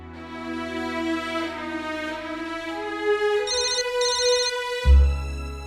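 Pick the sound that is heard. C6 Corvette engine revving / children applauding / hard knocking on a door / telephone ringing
telephone ringing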